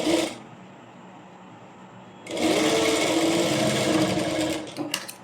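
A sewing machine stitches the curved sleeve of a plain frock, running in two bursts, a short one at the start and then a longer steady whirring run after a pause, close and loud.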